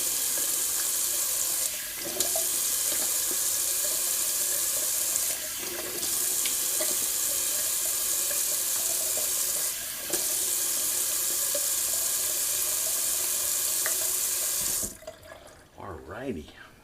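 A bathroom tap runs cold water into a sink for a face rinse after a wet shave. The steady, close hiss is broken a few times by splashing hands, and the water shuts off near the end, leaving faint handling noise.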